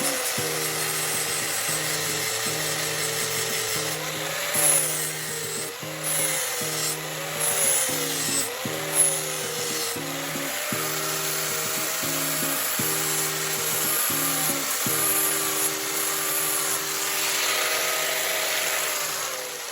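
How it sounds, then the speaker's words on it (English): A disc grinder working sheet metal during weld preparation, a steady droning whine with a rhythmic rise and fall as the disc is passed back and forth across the metal, heard close and continuous. "We finish grinding with a disc grinder."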